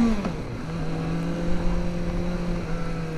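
A 2024 Kawasaki Ninja ZX-4RR motorcycle pulls away in first gear, its engine note rising steadily and close by, a high-revving buzz that holds for a few seconds without any talk over it.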